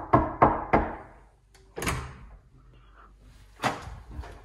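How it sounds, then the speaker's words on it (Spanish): Three sharp knocks on a door in quick succession, close and loud, followed by a pause and two more heavy thuds, as someone arrives at a room. "así que voy a tocar la puerta."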